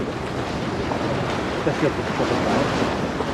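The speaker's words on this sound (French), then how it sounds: "le vent est trop fort maintenant" Strong wind roars steadily into the microphone on a beach during surfcasting in France, with a broad rushing noise, and surf or water sounds are mixed in underneath.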